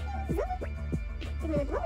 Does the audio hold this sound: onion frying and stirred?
no